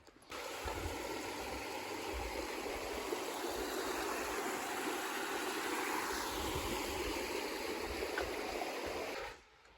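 Katahdin Stream on the Appalachian Trail flows near a footbridge with a steady, broadband rushing wash of water that holds even and close for several seconds before cutting off abruptly.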